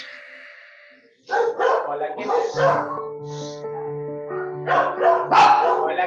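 A small dog yaps and barks in short bursts during a radio program, mixed with a person speaking Spanish nearby after a faint tonal intro.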